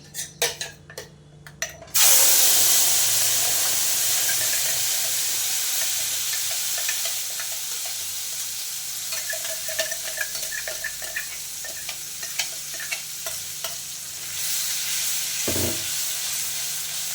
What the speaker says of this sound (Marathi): जे आपण वाटण वाटलेलं होतं म्हणजे जो मसाला तो तेलामध्ये टाकते